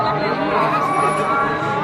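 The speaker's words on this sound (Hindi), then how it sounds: "बहुत भीड़ लग रही।" A dense crowd of people mills about at Bageshwar Dham, a Hindu pilgrimage site, with many overlapping voices merging into a steady, close, even babble that fills the whole moment.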